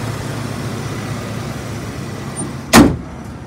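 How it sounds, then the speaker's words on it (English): A 1996 Ford F-150 XL truck engine idles with a steady low rumble close by, then a single loud door-like thump cuts in near the end. "Motor sounds good."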